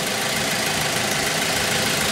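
A car engine idles steadily with a low, even rumble and faint mechanical ticking, with no voices over it.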